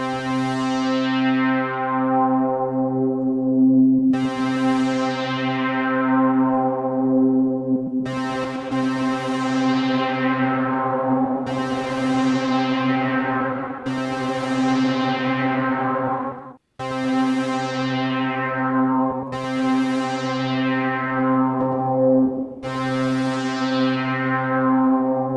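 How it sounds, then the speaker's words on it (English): Valhalla VintageVerb reverb set to a chorus-like mode with early diffusion at 0%, applied to repeated struck bell-like tones that ring and decay with a wavering shimmer, each note fading over several seconds, sustained low drones underneath. "So now it just sounds like a chorus effect."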